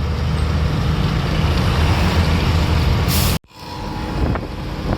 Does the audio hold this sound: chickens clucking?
no